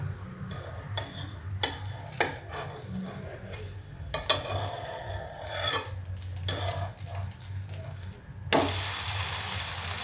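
Poha and semolina flatbread roasting in a kadhai, a soft steady sizzle with a low hum underneath, punctuated by several sharp scraping clicks of a spatula, and a louder hiss rising near the end as it is flipped.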